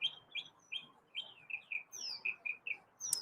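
A pet bird chirps close by in a quick run of bright, repeated tweets with short gaps, ending in a sharper call, against a quiet indoor background.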